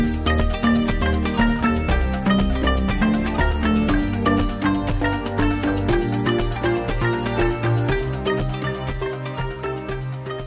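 A female field cricket chirps loudly and close up, a steady run of rapid, high-pitched pulses repeating throughout, alone without talk.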